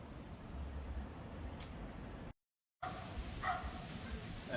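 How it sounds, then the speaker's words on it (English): A dog barks a few times somewhere off to the side of a road during an amateur cycling hill climb, its short yaps faint and partly buried under steady wind rush. "Dog's barking."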